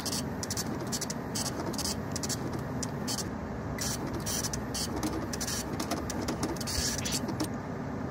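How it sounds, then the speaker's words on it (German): A slow printer in a video game runs with a steady mechanical whirr and rapid repeating clicks, constant and fairly loud throughout. "Langsamer Drucker."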